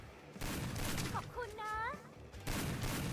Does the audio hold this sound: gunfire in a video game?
yes